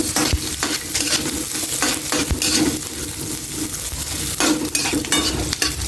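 Onions stir-fry in a pan after the garlic has cooked, sizzling loudly and steadily while a utensil scrapes and clinks against the pan in repeated strokes.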